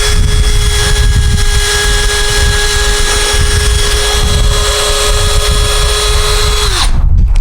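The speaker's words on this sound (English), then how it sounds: "now we'll drill just a little bit further in" Power drill driving into the wood of a raised bed planter, a loud steady high whine held for about seven seconds before spinning down abruptly at the end.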